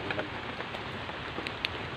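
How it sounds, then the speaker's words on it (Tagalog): Rain falls steadily outdoors as a soft, even hiss with scattered faint drop ticks, quiet and continuous with no voices. "Ulan na."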